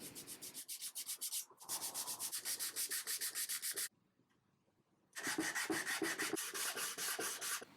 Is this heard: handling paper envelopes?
no